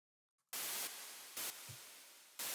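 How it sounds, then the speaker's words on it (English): A white noise synth patch in Ableton, with reverb and release turned down, fires loud hissing bursts in a quick sixteenth-note pattern, each burst dropping out briefly between hits. "I'm just going to program in some little kind of rhythm."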